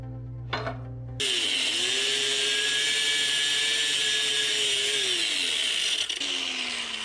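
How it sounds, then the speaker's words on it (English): Angle grinder cutting metal off a swingarm mount on a GoPowerSports Mega Moto 80/105 minibike, a loud steady high whine with a falling pitch that runs for about six seconds after a brief spin-up, alone with no talk. "so let me grind that off real quick"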